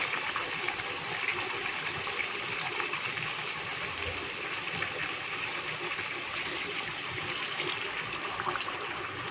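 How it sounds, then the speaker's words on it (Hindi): A glass of water pours into a pot of chicken curry for Lahori murgh chana, making a steady, broad gushing splash that runs continuously and up close. "इसमें जो है 1 गिलास पानी शामिल कर देंगे।"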